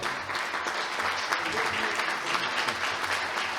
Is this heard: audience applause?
yes